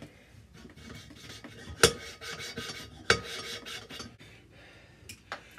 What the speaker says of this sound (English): Now it's time for lapping the valves.